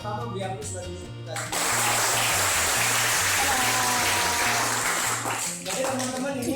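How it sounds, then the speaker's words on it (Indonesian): Audience applause at a university student organization event, a loud sustained wash of many hands clapping that swells suddenly and carries on for several seconds over steady background music, with voices at the start. "Pertama beri aplaus dari kita."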